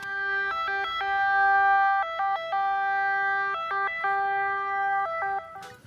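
A toy ambulance plays an electronic siren, a loud, clean two-tone warble stepping back and forth in a steady rhythm before cutting off with a click.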